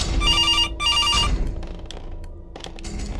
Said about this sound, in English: I can hear the phone, but I don't know where it is.